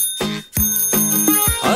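Loud, close bicycle bell rings sound four or five times in a quick, bright run of metallic dings.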